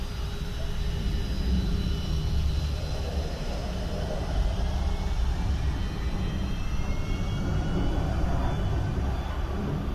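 Radio-drama sound effect of a bomber's failing aircraft engines: a dense, continuous drone and rumble that holds steady for the full stretch, with no voices over it.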